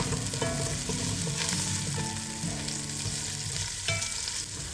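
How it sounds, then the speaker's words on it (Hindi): Onions sizzle in a tablespoon of hot oil for a palak khichdi tempering, a steady, close frying hiss with occasional stirring scrapes and no voices. "4 मैंने टेबल स्पून जो है ऑयल लिया है और इसमें मैंने प्याज को डाल दिया है फ्राई करने के लिए।"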